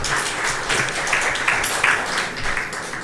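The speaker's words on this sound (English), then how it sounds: "let's give another round of applause" Brief audience applause at a vaccine research forum, a steady wash of many hands clapping at moderate loudness, no voices standing out.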